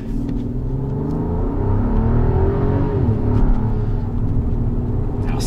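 A Rolls-Royce's 6.75-litre, 600-horsepower V12 pulls hard under acceleration, a deep, smooth, loud rumble that rises steadily in pitch over several seconds as heard from inside the cabin.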